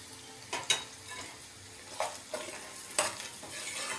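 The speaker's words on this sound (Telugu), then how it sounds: "1/2 ఉల్లిపాయ వేసాక హై ఫ్లేమ్లో 1-2 నిమిషాలు ఇట్లా ఫ్రై చేసుకోవాలండి." Onion frying over a high flame for poha upma, a soft steady sizzle under a handful of sharp scraping stirs of a spoon against the pan, close and fairly quiet with no talking.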